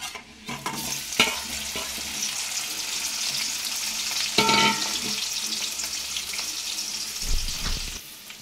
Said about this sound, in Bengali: এবার আলুগুলো যেগুলো ভেজে রেখেছিলাম ওগুলো দিয়ে দিলাম।